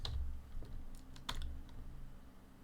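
Fingers typing on a computer keyboard, a few quick close key clicks over a steady low hum, no voice.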